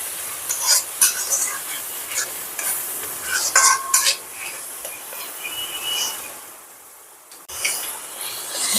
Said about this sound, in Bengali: এবার আমি দেখো টক দইটা দিয়ে দেবো